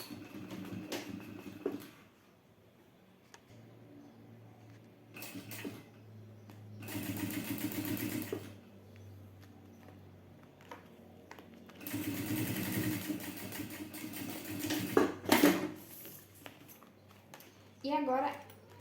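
Sewing machine topstitching fabric binding at stitch setting 5, running in several short bursts of whirring stitching separated by pauses and handling noises, with someone talking between runs.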